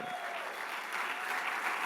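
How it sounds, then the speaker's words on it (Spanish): A church congregation claps in praise to the Lord, a soft, even wash of hands throughout. "Dale un aplauso al Señor"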